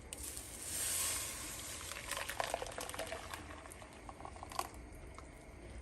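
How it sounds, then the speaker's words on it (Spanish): Blended sauce poured into hot oil in a saucepan bubbles and sputters quietly, a soft steady frying hiss with a brief surge early on and scattered small pops, no voices. "En una cacerola voy a agregar un chorrito de aceite. Vamos a agregar lo que licuamos."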